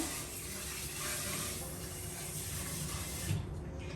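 Tap water runs steadily into a kitchen sink while dishes are washed, a continuous close spray and splash with a slight clatter near the end.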